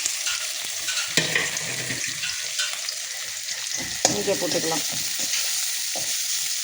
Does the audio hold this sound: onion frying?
yes